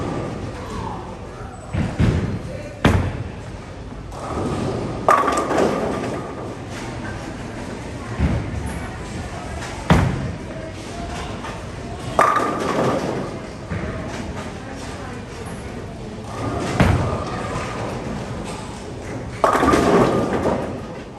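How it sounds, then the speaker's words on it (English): A Radical Informer asymmetrical solid bowling ball rolled down a lane several times, each throw a heavy thud followed by a rumbling roll and a sharp crash of pins, with alley noise between shots. "I'm gonna throw 3 shots from 3 different parts of the lane so we can see how versatile this ball is."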